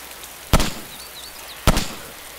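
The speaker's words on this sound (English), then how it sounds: "Alright, we're shooting." Two sharp, loud gunshots in the video game DayZ, spaced about a second apart and each followed by a brief echoing tail, over a quiet ambient background.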